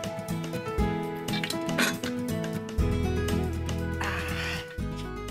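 Metal pots and a pressure cooker clank and clatter a few times, close by, over steady background music.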